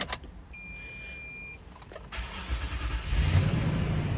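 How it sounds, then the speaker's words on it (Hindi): A Toyota car with poor fuel pump pressure and a clogged filter is restarted up close: a brief whir and clicks lead to the engine catching and rising into a rough, rumbling run. "मैं अभी इंजन को ऑफ करके दोबारा स्टार्ट करता हूँ, ये आप देखें।"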